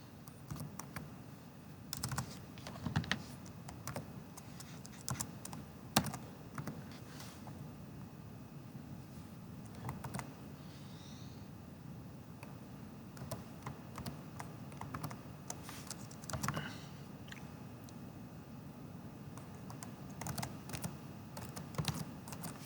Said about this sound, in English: that's what I'm going to go ahead and type.